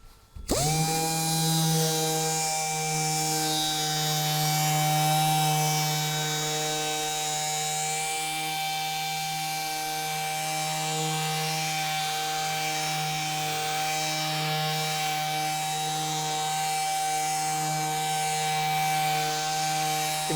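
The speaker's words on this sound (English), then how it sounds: "I'm going to do it with my Dynabraid finish sander and see how it comes out" A Dynabrade finish sander buffs a small amount of Odie's Wax into a wood finish, running as a steady, close electric whine with a buzzing tonal hum that holds unbroken throughout, with no voices.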